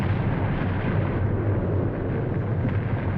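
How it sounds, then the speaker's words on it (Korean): Volcanic eruption of Mount Baekdu, its explosion blasting up through the frozen crater lake, heard as a loud, dense, continuous low roar lasting about three seconds with no voices. "거대한 굉음과 함께 얼어붙은 천지를 뚫고 불기둥이 치솟았다"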